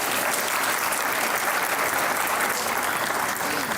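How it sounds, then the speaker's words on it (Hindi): Dense, steady audience applause at a cricket-themed interview event, a continuous wash of many hands clapping at close range with no pauses, filling the whole stretch without voices on top. "तालियां बजाएं"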